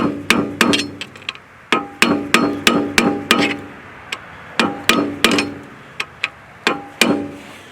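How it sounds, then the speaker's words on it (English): A screwdriver or pry bar is hammered to dent the locking notch on a CV axle of a 2003–2007 Honda Accord, giving sharp metallic strikes in uneven clusters of two to four, close and loud. "So take a little screwdriver, pry bar, whatever you have, and just dent it."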